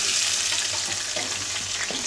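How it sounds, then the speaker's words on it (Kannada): Onions frying in oil and melted butter with cumin and mustard seeds for hotel-style dal kolhapuri, a steady close sizzle with faint scattered crackles and no speech. "ಆಮೇಲೆ ಈರುಳ್ಳಿ ಹಾಕಬೇಕು"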